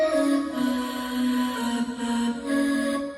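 A bright, sustained future bass synth lead built from a vocal sample holds steady chord tones with a gentle dip in brightness partway through, playing loud and alone with no talking.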